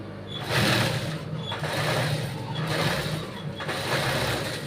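Sewing machine stitching cut work fabric in rapid bursts, a dense mechanical whirr with brief pauses between runs, close and fairly loud, no talk.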